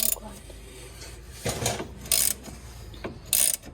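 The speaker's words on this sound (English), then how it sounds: "this is my pass-through socket, and this is a hex key that's in here" A hex key in a pass-through socket loosens a front strut fastener on a Mercedes E350, giving a few short, close ratcheting clicks in separate bursts against a quiet workshop background.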